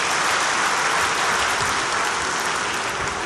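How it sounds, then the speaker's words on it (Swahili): An audience applauds at a Yanga SC ceremony honouring RC Chalamila: dense, steady clapping from many hands, loud and close, with no pause for its full length. "Makofi mengi kwa Mheshimiwa Albert"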